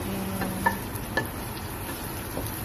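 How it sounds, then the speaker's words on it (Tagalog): Stirring tinola chicken soup with ginger and malunggay in a pan, a soft continuous scraping and swishing with a few light clinks of the utensil against the pan, close and fairly quiet. "Yan, haluin mo, haluin mo."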